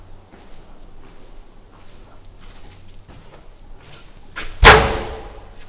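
A door slams once, loud and close, near the end of a quiet stretch of faint room noise in a house being explored at night.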